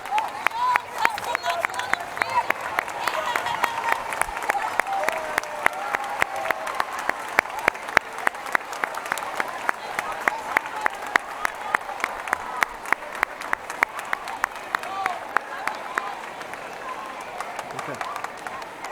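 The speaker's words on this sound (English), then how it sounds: "we're going to give a round of applause to all the parents and caregivers that are seated all around us" Students at a school event applaud the parents and caregivers seated around them, a long, even wash of clapping from a large crowd, moderately loud, with a faint voice beneath it.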